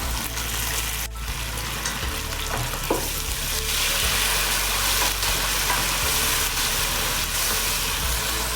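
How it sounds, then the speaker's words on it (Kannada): Mint and coriander leaves frying in a pan for chicken pulao give a constant dense sizzle with a low steady hum beneath and occasional faint stirring clicks, without voices. "ಇವಾಗ ಸೊಪ್ಪು ಹಾಕೋತಾ ಇದ್ದೀನಿ ಪುದೀನ ಸೊಪ್ಪು ಒಂದು ಇಡಿಯಷ್ಟು ತೊಗೊಂಡಿದ್ದೀನಿ ಹಾಗೆ ಕೊತ್ತಂಬರಿ ಸೊಪ್ಪು ಒಂದು ಇಡಿಯಷ್ಟು ತೊಗೊಂಡಿದ್ದೀನಿ ಸ್ವಲ್ಪ ಫ್ರೈ ಮಾಡ್ಕೋಬೇಕು"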